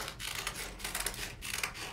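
Scissors cut through paper to shape a butterfly wing, giving repeated soft, close snips and rustles in a steady, careful rhythm.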